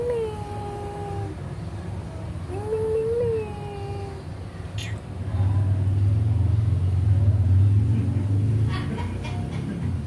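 A young kitten gives several short, thin meows up close, followed by a rising engine-like rumble in the background. No one speaks.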